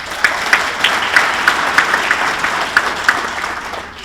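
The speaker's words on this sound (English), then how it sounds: "A big round of applause for the good" A hall of fame induction ceremony audience applauds its sponsors, a fairly loud, even wash of clapping from a large crowd with a few distinct nearby claps punctuating it, and nobody speaking.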